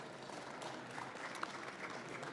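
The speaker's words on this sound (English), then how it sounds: "Big round of applause and thank you to Makana." Faint, distant applause from a conference audience forms a dense, even wash of clapping that holds steady throughout without a clear peak.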